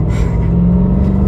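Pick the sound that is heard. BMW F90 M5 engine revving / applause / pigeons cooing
BMW F90 M5 engine revving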